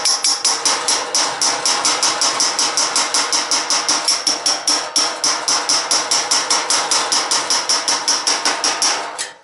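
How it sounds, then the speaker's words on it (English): Rapid, steady hammering on a rod with an oval end, peening the metal body panel of a 1966 Ford Mustang, about four loud metallic blows a second repeating evenly for the whole stretch with no talk. "a rod that I've got a sort of an oval end on, and I can get in here then and peen"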